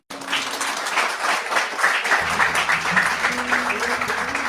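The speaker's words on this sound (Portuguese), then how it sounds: "Dê um aplauso a Jesus" Church congregation applauding at a Sunday morning service, a dense steady wash of many hands clapping throughout, with a low hum and faint background sound underneath.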